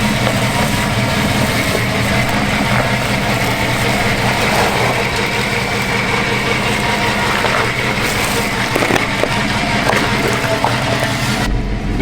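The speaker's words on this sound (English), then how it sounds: "The dynamics of driving this older vehicle down the trail, it's like there's popping, there's banging, there's noises." An older off-road vehicle labors down a trail with a steady heavy engine drone, rough and continuous, close and loud throughout, with a brief change near the end.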